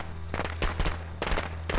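In the Friday the 13th video game, firecrackers crackle in quick bursts of sharp pops, two dense clusters over a steady low electronic hum, loud and near.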